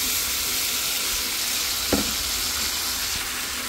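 New potatoes frying with spices, turmeric and chili in a pan, giving a constant loud sizzle with one brief scrape of stirring partway through.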